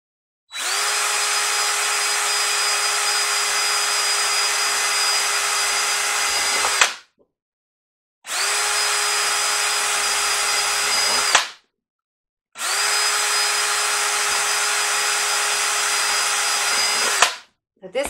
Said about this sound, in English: I'm going to be drilling holes into the bottom of them.